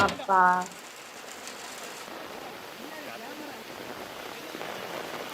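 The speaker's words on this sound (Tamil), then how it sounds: "மழை வேற வந்துருச்சா போச்சு." Steady rain falls outdoors in a village, a continuous soft hiss and patter that lasts throughout after a brief voice at the very start.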